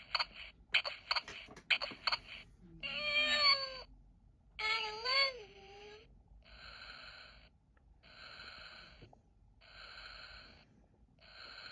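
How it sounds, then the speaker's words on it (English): Repeated meowing and squeaky cries from a repaired toy cat that sounds once a bottle sits in the right spot, a series of short high-pitched mews followed by softer rhythmic beeping pulses, quiet and close. "Just meow, meow, meow until you put the bottle in the right spot."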